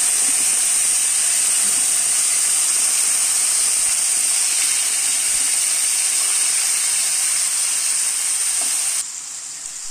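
Salted chicken pieces sear in a pot, giving a loud, continuous bright sizzle and hiss of hot oil that stays steady for seconds before dropping off abruptly near the end.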